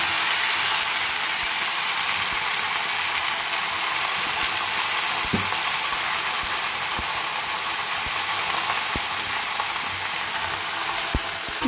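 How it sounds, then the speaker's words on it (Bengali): Cut vegetables fry in hot oil with dry chilli and bay leaf, a loud, continuous sizzle held for several seconds with a few sharp clicks and scrapes of stirring, and no talking. "এইবার দিয়ে দেবো আমার কেটে রাখা সবজি"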